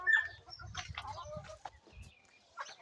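Chickens being fed grain cluck and murmur in soft, irregular calls, close by, with a few brief higher squawks scattered through.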